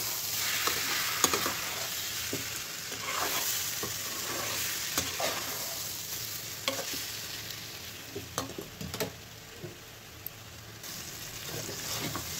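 Besan fritters fry in a pan of hot oil with a steady, close sizzle, broken by sharp crackles and pops and the occasional scrape of stirring, with no talking.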